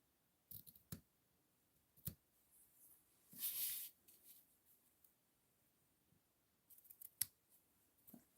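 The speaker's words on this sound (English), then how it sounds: "let's get our scissors" Scissors snip a few times at a close distance, with brief paper rustles and clicks between the cuts; quiet, with no talking.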